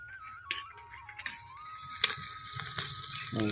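A pan of sliced onions sizzling in hot oil with a steady crackle, with occasional sharp ticks and clinks from a utensil against the pan, and no one talking.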